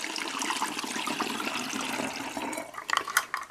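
Methylated spirits pours steadily with a bright, splashing gurgle, then breaks into uneven trickles and spurts as the stream tapers off.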